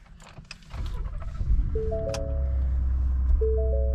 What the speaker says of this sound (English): we're going to start the truck now and let it warm up for a minute